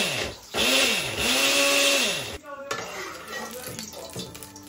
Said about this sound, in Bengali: অল্প জল দিয়ে আদাটাও এবার বেটে দেবো